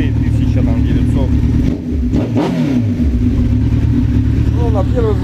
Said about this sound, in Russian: Все, мотоцикл, в принципе, ну, почти прогрелся уже. Температура показывает 64 уже, стабильные холостые, 1900.